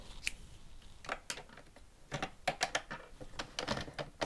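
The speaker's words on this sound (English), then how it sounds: "now I'm going to cut the yarn again" Scissors snip knitting yarn in a series of sharp, close clicks and cuts, irregularly spaced with short pauses, quiet and alone with no voices.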